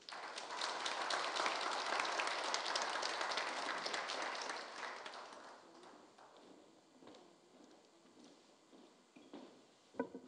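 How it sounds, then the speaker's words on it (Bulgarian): Audience applause for award recipients on stage, a dense crowd clapping that starts strong, then thins and fades to scattered claps. "Аплодисменти за тях."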